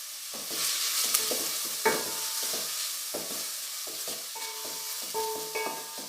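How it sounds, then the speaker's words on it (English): Chopped medium onions hit hot oil in a heated vessel and sizzle steadily up close. Repeated clinks and scrapes of a spatula against the pan cut through the frying hiss, and no one speaks. "Once the vessel is hot, add oil. Wait till the oil gets hot. Add onion."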